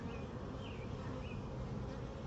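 Honey bees buzz around an opened beehive during an inspection, producing a steady, dense hum at low volume with a few louder passes as individual bees fly close.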